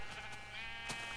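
A single sheep in the Minecraft video game bleats close by. The short, wavering cry stands alone over a quiet background hum.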